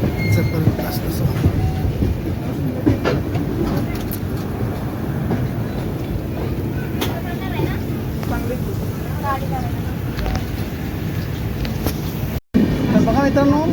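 Passenger train on the Badlapur to Pune line, passing the deep Khandala ghat valley before Monkey Hill. It gives a steady, loud, close rumble with clattering wheels on the rails that runs throughout.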